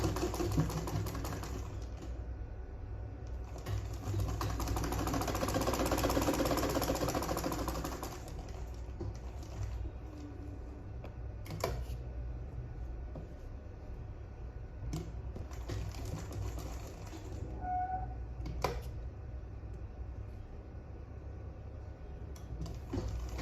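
A sewing machine stitching fabric for a sleeveless gown, a loud whirring run of stitching in the first stretch, then quieter pauses broken by a few short clicks and bursts, with no voices.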